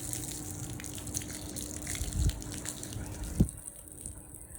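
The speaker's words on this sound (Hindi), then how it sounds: "ये देखिए इतना मज़े का, इतना ठंडा सा पानी है।" Cold water runs and gushes steadily at low volume, like a tap or bucket pouring on laundry day, with a couple of brief splashing thumps partway through.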